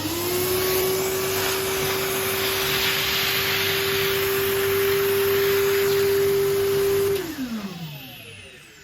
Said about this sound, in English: Today we're going to hoover up the remains of all the ballast, the loose ballast.